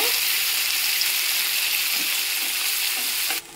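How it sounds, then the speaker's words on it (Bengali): Chopped onion sizzles steadily in hot oil in a pan for chicken snacks, a close, continuous frying hiss with no talk, cutting off abruptly near the end. "পেঁয়াজটাও হালকা করে ভেজে নেব।"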